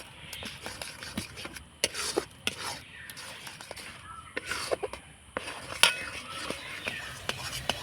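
Melting sugar and raw mango are stirred in a pan for candy. A spoon scrapes and clinks against the metal again and again in uneven strokes, close and moderately loud, with faint voices now and then.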